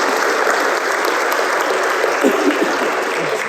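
A round of applause for lawmakers fills the room as steady, dense clapping from a large audience, loud and sustained without a break.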